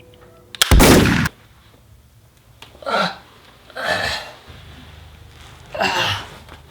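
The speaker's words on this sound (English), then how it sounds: "You shot me." A single loud, sharp gunshot bursts out near the start, followed by a few softer, breathy bursts like hiccups or sneezes with quiet gaps between.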